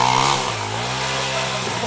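A motorcycle engine at a motocross race roars loud and close, revving and accelerating with a rough buzzing drone, while someone talks over it.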